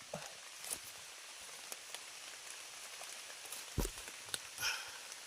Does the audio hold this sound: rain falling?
yes